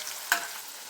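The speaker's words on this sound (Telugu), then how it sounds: "పెద్ద ఉల్లిపాయ వేగిపోయింది." Onions fry with turmeric in oil as a soft, even sizzle, broken by one short clink of stirring.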